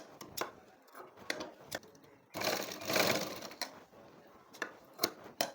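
Sewing machine joining cut fabric pieces in short bursts of rapid stitching, with one longer, louder run in the middle and brief pauses between, close and clear.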